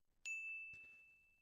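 A single bright notification bell ding rings out clearly and sustains with a slowly fading tone, followed by a short burst of noise at the very end.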